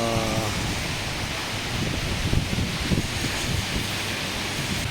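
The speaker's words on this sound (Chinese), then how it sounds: "下不超过20公里就下大雨了啦" Heavy rain pours during a motorcycle ride in Thailand, making a dense, continuous roar of rain and wind that fills the scene.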